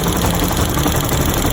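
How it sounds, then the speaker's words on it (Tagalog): Yamaha FZ150i motorcycle engine idling with a busy mechanical ticking from loose valve clearance, a loud, dense, continuous clatter close up. "yung pagbubuo ng makina, kulang na kulang sa valve clearance yung tunog"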